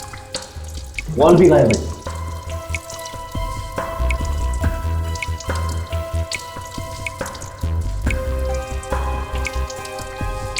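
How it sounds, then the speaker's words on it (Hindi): Water drips from a leaking bathroom flush tank with a missing valve, a steady series of close, distinct drops running throughout while someone speaks briefly over them. "यहां से पानी टपक रहा है, मुझे मालूम था।"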